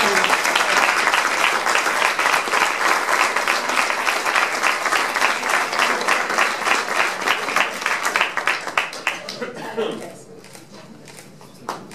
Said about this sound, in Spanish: Lea, por favor, un aplauso para el Capitán.